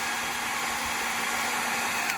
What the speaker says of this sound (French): C'est vrai que tu filmes avec le sèche-cheveux.